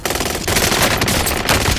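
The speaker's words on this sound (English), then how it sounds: "I was holding my trigger button and it just canceled my shooting" AK-47 gunfire in a shooter game, a loud rapid burst of automatic shots that runs without a break for about two seconds.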